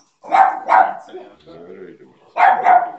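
A French bulldog gives several short barks in quick pairs, close and loud, with a quieter stretch of whining or grumbling between them.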